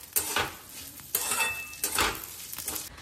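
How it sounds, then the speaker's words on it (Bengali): Vermicelli and broken cashew pieces fry in ghee, bursts of crackling sizzle mixed with utensil scrapes and clinks against the pan, close and fairly quiet, with no talking. "সিমুই আর একটু কাজু টুকরো টুকরো করে নিয়েছি, সুন্দর করে ভেজে নেব"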